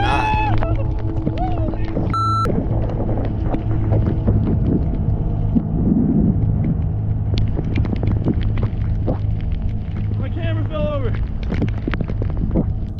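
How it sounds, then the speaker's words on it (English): Strong storm wind roars steadily with heavy rain, gusting to about 60 to 70 miles an hour, a dense continuous rushing wash with low rumble throughout, loud and close, with a few brief voice fragments. "The wind was blowing so hard and the rain was so heavy, it was literally blinding."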